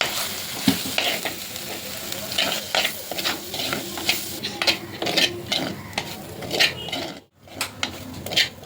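Prawn curry masala with fenugreek, coriander powder, turmeric and chilli powder being stirred in a pan, steady sizzling broken by repeated scraping strokes of a utensil, close, with a brief pause near the end.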